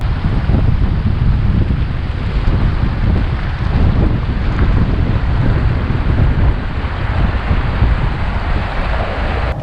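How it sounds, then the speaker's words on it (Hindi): A vehicle pushes through a large water crossing on a high-altitude road between Durbuk and Hanle, a loud, constant churning rush of water and engine noise, buffeted by wind. "ये इतनी बड़ी वाटर क्रॉसिंग कहाँ से आ गई यार?"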